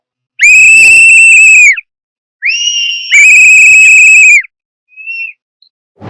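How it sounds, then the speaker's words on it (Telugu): Shrill whistles ring out at a political rally in Tamil Nadu: two long, loud sustained whistle blasts with a brief higher one between, then a few short faint chirps near the end. "ఓన్లీ విజిల్సే అన్నమాట, ఎక్కడ చూసినా విజిల్స్"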